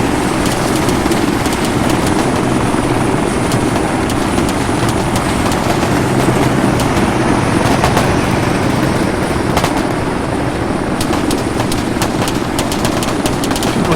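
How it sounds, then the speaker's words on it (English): Helicopter arriving in the military shooter game Arma 3, a loud, steady rotor and engine roar filling the whole stretch, with scattered sharp gunfire cracks breaking through now and then. "look at the other heli coming in right here"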